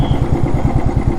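An old Royal Enfield Bullet motorcycle idles close by with a steady, loud, low thumping pulse as it is parked, with no voices over it.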